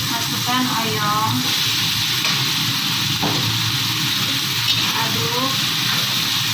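Sliced luffa (oyong) frying and being stirred in a pan, a steady loud sizzle with occasional scraping as a voice talks over it.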